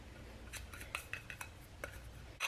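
Metal utensil clinks and scrapes against a bowl while stirring olive oil, sugar and other dressing ingredients for a dill and lemon tuna salad, a series of short close taps with quiet gaps.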